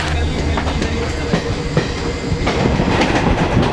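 A passenger train runs along the rails on a long journey, with a loud, continuous rumble and a rhythmic clickety-clack of wheels over the track joints, close and steady throughout.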